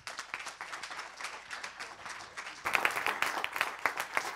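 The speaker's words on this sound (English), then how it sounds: "round of applause for Jullien Gordon" Sparse clapping from an audience at a career services talk, greeting a speaker, swells into fuller, louder applause partway through and keeps going as a lively round.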